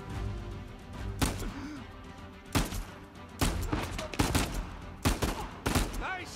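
Repeated bursts of gunfire from the video game Uncharted 4 crack out loudly in several clusters over a steady game-sound bed, with a voice briefly audible.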